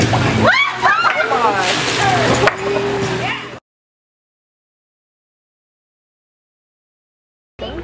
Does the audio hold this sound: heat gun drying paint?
no